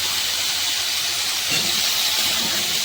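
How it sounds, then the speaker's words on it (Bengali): Potatoes coated with turmeric fry in hot oil, giving off a steady, even hiss that runs unbroken from start to finish, close by and with no voices. "প্রথমে তেলের মধ্যে হলুদ দিয়ে আলুটা ভেজে নিচ্ছি"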